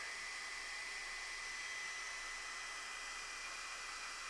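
A GHD Duet Style hot-air straightener blows a steady, even whoosh of air while drying and smoothing hair. The sound is continuous and unbroken from start to finish, with no talking.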